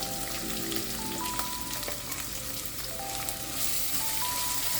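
Chopped onions added to browned garlic for Kapampangan kilawin sizzle in a pan, a constant rain-like crackling hiss with occasional light scrapes, close and steady with no voices.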